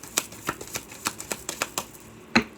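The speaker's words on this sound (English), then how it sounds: "Last shuffle." Cards riffle and snap in quick bursts, a series of crisp shuffling sounds close by and fairly quiet.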